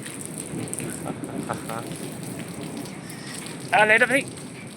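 Steady rain falls in a storm in Hosur, a continuous close hiss. A voice briefly calls out near the end.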